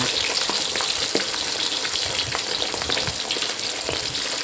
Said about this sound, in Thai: ทอดให้เหลืองทอดให้หอมนะคะ